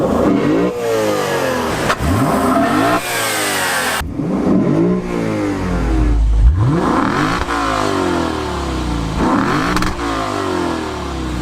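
A 2019 Lexus RC F with a naturally aspirated 5-liter V8 revs hard over and over, rising and falling in loud, close sweeps that fill the whole stretch with no talk.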